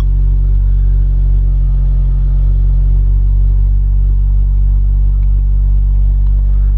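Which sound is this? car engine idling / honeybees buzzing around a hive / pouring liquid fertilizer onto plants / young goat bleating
car engine idling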